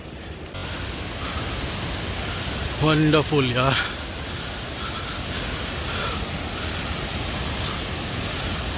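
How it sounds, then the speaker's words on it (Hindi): Steady broadband rush of a waterfall at Netarhat in Jharkhand, heard from a short distance as a constant hiss, with a brief spoken exclamation in the middle. "थोड़ा थोड़ा अब झरना हमारे नज़दीक या फिर हम झरने के नज़दीक जाते जा रहे हैं।"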